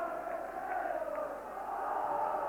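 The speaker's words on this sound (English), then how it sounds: "So Aberdeen get the game underway in front of a big noisy crowd here." Big, noisy football crowd at an Aberdeen v Rangers league match at kickoff, a steady roar of massed voices that holds throughout.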